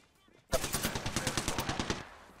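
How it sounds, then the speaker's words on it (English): Rapid automatic gunfire from shooting at another player in a battle-royale video game, a fast burst of about fifteen evenly spaced loud shots lasting around one and a half seconds, preceded by quiet game ambience. "Oh, that's Zach I'm shooting at."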